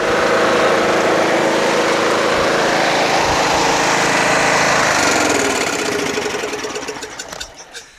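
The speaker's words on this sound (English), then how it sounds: "Just changed that carburetor, started right up." A Toro Wheel Horse 1238XL lawn tractor engine runs loud and close with a steady rough drone after a carburetor replacement, then revs down and fades in the last couple of seconds, with no talking.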